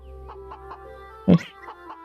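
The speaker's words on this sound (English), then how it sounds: "We're gonna go hang out with some chickens." Chickens in VRChat cluck in soft, evenly spaced bursts over a steady game hum, broken by one louder squawk partway through.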